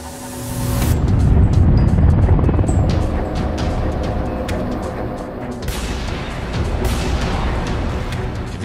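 A Huey military helicopter thunders close by, its rotor chopping loudly and steadily while the turbine whines throughout, with no talking.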